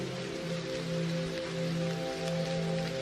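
Steady rain patters on a surface, a soft continuous hiss with a low hum underneath, no voices.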